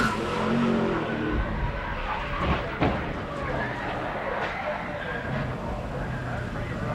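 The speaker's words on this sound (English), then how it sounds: "the sound alone just gives you cold chills whenever a car gets around like that" A 2004 NASCAR stock car spins out and slams the fence: engine roar, a sharp skid and impact noises amid crowd and track din, with a commentator talking over it.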